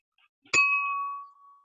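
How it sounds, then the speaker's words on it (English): A single bell strikes once, sharp and clear, then rings out in a bright, sustained tone that fades over about a second, alone in silence. "What's that bell for?"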